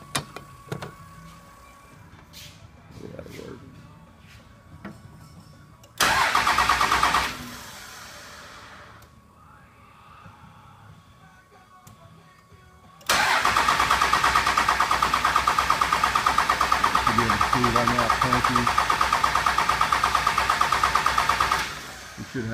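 A Dodge Cummins 24-valve 5.9L diesel is tested for a lift pump fault. It gives a short burst of starter cranking, falls quiet, then cranks again and settles into a long, loud, steady rumble close by.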